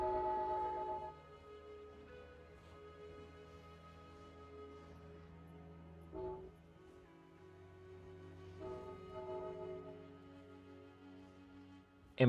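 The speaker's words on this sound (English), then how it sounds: "there's a train coming through" A train rumbles past in the distance with a long, tonal horn sounding over it, steady and fairly faint.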